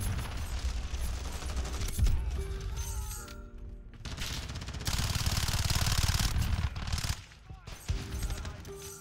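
Sustained automatic gunfire in Call of Duty MW2, dense and loud, pausing briefly between bursts, with mechanical clicks and game sounds mixed in throughout.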